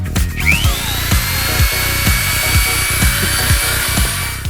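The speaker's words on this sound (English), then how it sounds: "using the Dremel here to cut a slot so it enables us to be able to get a screwdriver in" A Dremel rotary tool cuts a slot in an Audi TT during a cruise control retrofit, holding a high, steady whine. Rhythmic grinding bursts pulse under it as the bit bites the workpiece, with no voices.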